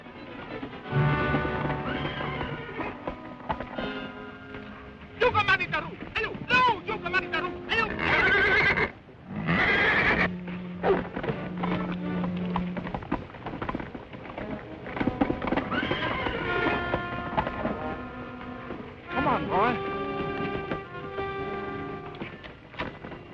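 A horse neighs and whinnies repeatedly, loud and close, with shrill rising calls broken by short gaps, along with a few hoof clops and snorts and some brief talk.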